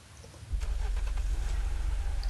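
In the video game Unturned, a car engine turns over and settles into a steady, low, droning rumble that continues to the end.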